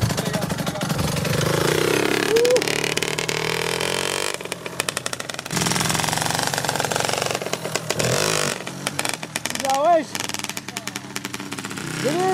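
A KTM SX65 two-stroke motocross bike revs hard in a raspy, buzzing wail that rises and falls through several throttle blips, close and loud, with brief pauses and faint voices between bursts.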